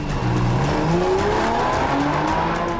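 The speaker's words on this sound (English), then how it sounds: "we're going to have a race. This Cayman R has 325 horsepower" A Porsche Cayman R with 325 horsepower accelerating hard in a race, its engine note rising in pitch through the gears, loud and close, with tire noise underneath and no speech.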